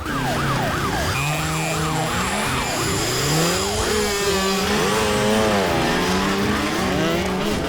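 A police siren blares loud and close, switching from a fast, rapid yelp to slower rising and falling wails, with traffic noise underneath and no speech.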